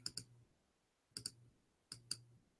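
Keys on a computer keyboard click quietly in three evenly spaced pairs of sharp taps, close and isolated against near silence.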